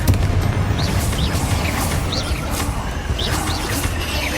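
Confringo explosion spell from Hogwarts Legacy, a steady rumbling blast texture with crashing booms, loud and close, with no speech.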